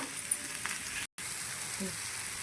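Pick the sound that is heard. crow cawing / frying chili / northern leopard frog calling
frying chili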